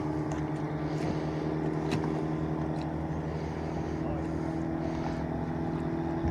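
A fishing boat's motor drones steadily nearby at Fethiye beach, a low humming throb with a few short knocks and clatters over it.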